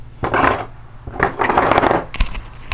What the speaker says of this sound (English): They cut the root again